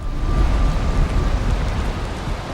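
Heavy rain pours steadily in Valheim, a dense, loud hiss with deep rumbling underneath and no voices.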